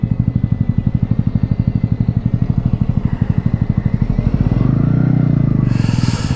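A motorcycle rides through narrow city streets, its engine a steady close pulsing drone that swells toward the end as traffic passes, with no speech over it.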